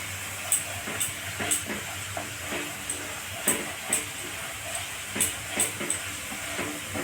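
Coriander, cumin and Kashmiri chili spices stirred and fried in a pan, with a steady hiss of sizzling and repeated scraping strokes of a spoon at a regular rhythm, fairly close and without talk.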